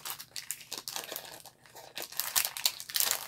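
Plastic planner envelopes crinkling and rustling as they are handled, a steady close crackle that swells and fades in irregular bursts, with no speech.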